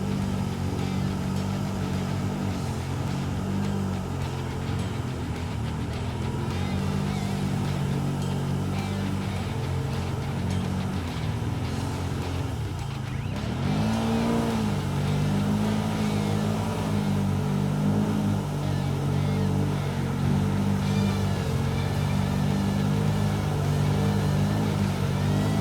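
A BRP Outlander 1000cc ATV engine revs steadily while climbing over a serious off-road obstacle, its loud, continuous mid-pitched drone rising and falling with the throttle and briefly dipping partway through before surging again.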